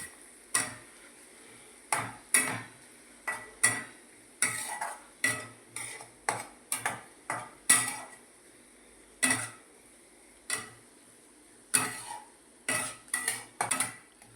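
A utensil stirs salt into paneer tikka masala in a pan, making repeated metal clinks and scrapes in an uneven rhythm, close up over a faint sizzle.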